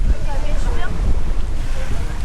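Strong wind buffets the microphone on a beach on a Thai island, a steady low roar with a hint of surf and faint voices underneath.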